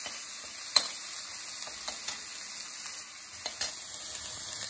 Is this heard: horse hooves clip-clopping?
no